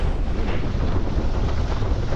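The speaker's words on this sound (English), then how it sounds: "I think it's windy enough." Loud, continuous roar of strong wind buffeting the microphone during speed sailing on flat water, dense low rumble without pauses and no speech.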